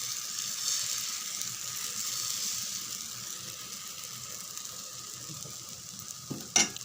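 Rava wheat dosa sizzles steadily in oil on a hot pan, a continuous close crackle running throughout, with a brief louder clatter near the end.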